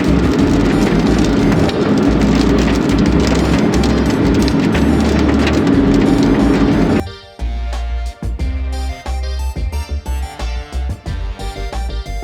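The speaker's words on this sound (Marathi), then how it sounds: "तुम्हाला पावसाचा आवाज ऐकवतो." Rain pours down in a dense, loud, steady hiss for about seven seconds, then cuts off abruptly and gives way to quieter tonal sounds.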